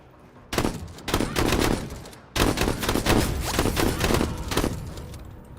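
Shotguns firing in a military video game, several heavy blasts in quick bursts separated by short gaps, loud and close, with rumbling tails between the shots.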